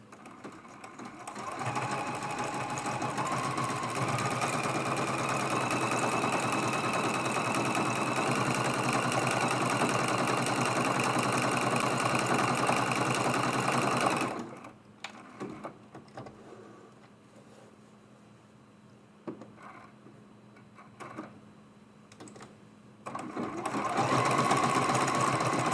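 A sewing machine stitches leaf shapes on an autumn mug rug and runs loud and steady for about fourteen seconds. It then stops and restarts in short bursts as it jumps from one leaf to the next.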